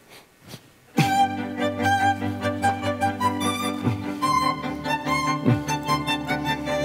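A melody plays over sustained chords, the harmony changing every couple of seconds, loud and full with no talking.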